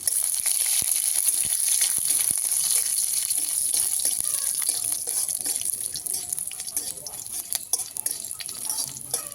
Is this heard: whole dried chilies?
yes